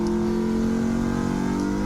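A stock Ford Mustang GT V8 driven on a track, its engine and exhaust holding a steady, moderately loud drone with a smooth, even tone and no sharp revving.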